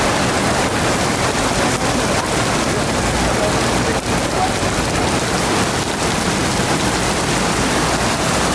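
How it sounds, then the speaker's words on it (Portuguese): Heavy rain pours down steadily during a storm in Brazil, a loud, dense, continuous hiss of drops hitting surfaces with no pause. "Chuva e trovoada."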